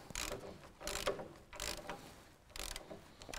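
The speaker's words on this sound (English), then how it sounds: "you have to always start off going in the wrong direction with your ratchet or air gun if you're fancy" Ratchet wrench turned the wrong way on a track and rod rebuild: soft repeated clicking bursts in an uneven rhythm, close and fairly quiet, alone without talk.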